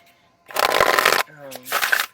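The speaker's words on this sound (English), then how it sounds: "I'm going to give this deck a really good shuffle" An oracle card deck being shuffled by hand: two bursts of dense riffling rustle, the first longer, with a short tonal, voice-like sound between them.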